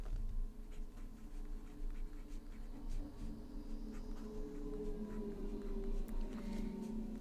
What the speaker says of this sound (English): we're going to do a little bit of writing and drawing with this as well